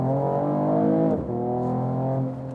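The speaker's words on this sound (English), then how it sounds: "This 6-cylinder sound is just really great." A 2022 Mercedes CLS 53 AMG six-cylinder engine hums in a smooth, strongly harmonic drone, briefly dipping in pitch as if shifting, then holding steady, close and loud with no talking.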